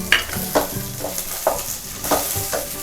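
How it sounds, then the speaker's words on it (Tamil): Chopped garlic and ginger sauté in a hot pan for a quick idli chutney, crackling steadily while a spoon stirs and scrapes in a regular rhythm of about six strokes, close and clear with no talk. "இதையும் நல்லா வதக்கிக்கோங்க."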